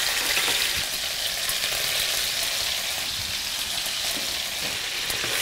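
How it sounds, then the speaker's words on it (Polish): Bacon cracklings sizzle and crackle loudly and continuously in a frying pan, a dense close-up hiss with no talking. "Zaczyna skwierczeć."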